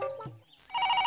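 A telephone rings in a Hindi-dubbed South Indian film, a short burst of electronic bell tone breaking in after a brief pause, loud and close with no talk over it.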